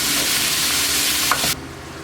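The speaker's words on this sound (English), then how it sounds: "So first thing we're gonna do is get this hamburger. We're gonna start to brown it." Ground beef browning in a pan for an Asian-style beef and cabbage dish, a loud, dense, close sizzle with a brief stir, cutting to quieter sizzling near the end.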